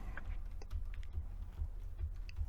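Keys pressed one after another on an Atari ST computer keyboard, giving soft, irregular clicks over a steady low hum.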